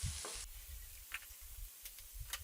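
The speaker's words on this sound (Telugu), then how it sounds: "కారం వేసిన తర్వాత బాగా కలుపుకోవాలి" Onions coated in chili powder are stirred in a frying pan with a soft sizzle and scraping strokes, a few brief clinks of the spoon against the pan breaking through, quiet and with no voices.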